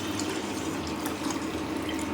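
Sorghum slurry pours and splashes continuously into hot water for white sorghum porridge, a steady close-up trickling with small drips.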